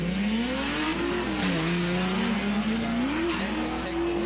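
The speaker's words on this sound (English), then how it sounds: "we've got Curtis Mayberry in the Mustang here" A Mustang drift car in the final round of a drift competition howls along with its tires squealing, while its engine note rises and falls through a loud, continuous slide.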